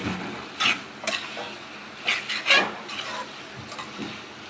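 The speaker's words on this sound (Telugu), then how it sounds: "ఇలా బాగా ఫ్రై చేసుకోవాలి." Eggplant (brinjal) frying in a pan gives a soft, crackling sizzle broken by a few scraping stirs, close and moderately quiet with no talk.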